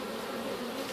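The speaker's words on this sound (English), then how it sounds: "The bees are still just kind of bearding on the front." Honey bees bearding on the front of a backyard hive make a dense, continuous buzz, close and even, over a very brief moment.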